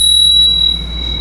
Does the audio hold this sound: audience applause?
no